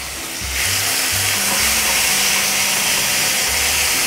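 Kimchi hits hot oil and stir-fries with a loud, steady sizzle that swells after a brief start and continues close and unbroken.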